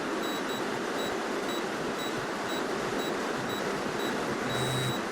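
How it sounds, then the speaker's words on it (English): Short, high electronic beeps from a digital torque wrench repeat in a steady rhythm over a constant broadband hum, ending with a longer sustained tone. "it beeps when you're getting close"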